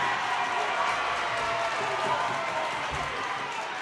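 Home crowd noise fills a gym at a girls' Class 6A district semifinal basketball game, a steady, dense roar of voices and cheering that holds at an even level throughout, with no single voice standing out.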